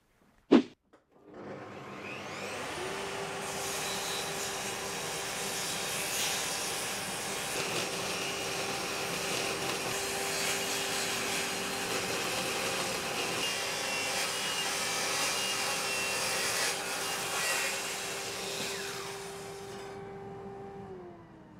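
A power saw cuts cracks out of scrap wood: a sharp click starts the machine, then a loud, steady whine with grinding cut noise runs for about twenty seconds before spinning down, and no one speaks.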